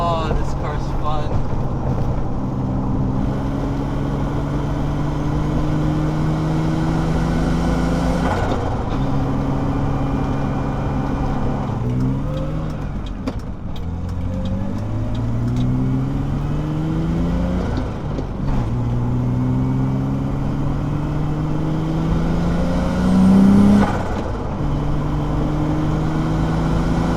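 A BMW E30 with a solid chassis mount shifter and poly motor mounts drives along, its engine droning loudly and steadily. The pitch climbs through each gear and then drops at each shift, repeating several times, with faint mechanical clicks at the gear changes.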